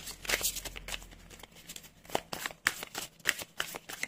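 Oracle cards being shuffled by hand, a quick series of close, crisp riffles and slaps over a few seconds.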